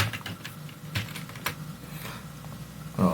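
Keys being typed on a computer keyboard in irregular clusters of soft clicks with a few louder taps, close and fairly quiet, with no voices.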